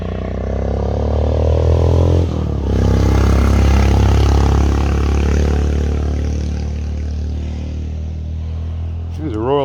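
A Royal Enfield motorcycle passes close by on a trail, its engine a deep, steady rumbling drone that stays loud throughout and eases slightly toward the end.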